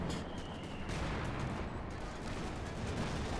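Tank cannon blasts and rifle fire crackle in Company of Heroes 2, a Wehrmacht versus US Forces match with a Panther and a Jackson tank destroyer, forming a dense, steady battle din with overlapping shots throughout.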